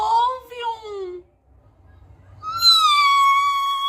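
A black kitten in an anime meows twice, with high, wavering cries and a short quiet gap between them. The cries are close and clear.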